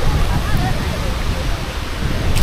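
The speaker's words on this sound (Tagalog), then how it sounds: "Ang ganda ng falls!" Waterfall at Aw Asen Falls in Ilocos Sur rushes nearby as a loud, constant broad roar and hiss of falling water, steady from start to finish.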